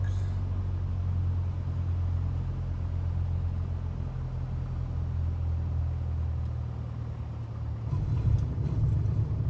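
Low, steady engine drone of a Piper Warrior II light aircraft throttled back on approach in Microsoft Flight Simulator 2024, a continuous rumble with a slight swell near the end, no talk.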